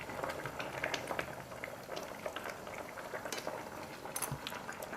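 Korean chicken stew bubbling steadily in a pot, a soft continuous roil of popping bubbles with occasional small clinks, quiet and close, no voices.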